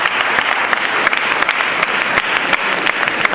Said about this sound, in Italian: Un grande applauso lo vorrei fare per quello che è stato e quello che è ancora.